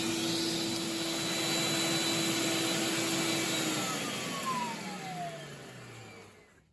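A FOXAlien HFF 800 dust separator vacuum runs at about half speed with a steady, fairly faint whine and airy rush that slowly falls in pitch and fades near the end.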